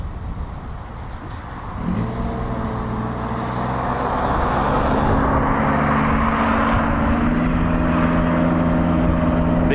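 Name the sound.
C-47 propeller aircraft flying past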